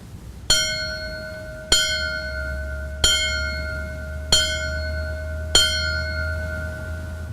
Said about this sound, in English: the bell rings out the signal 1-5 in tribute to their life and service